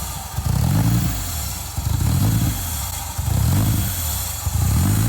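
A Toyota engine fitted in a Volkswagen bus runs loud and close through a small exhaust. It idles with a lumpy, pulsing beat that swells and dips every second or so, rough from unsorted wiring and no cooling system.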